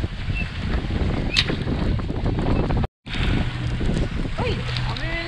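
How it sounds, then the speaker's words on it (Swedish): Steady wind buffeting the microphone with rushing water and creaking on a sailboat during a sailing race, continuous and fairly loud. "Det blåser lite."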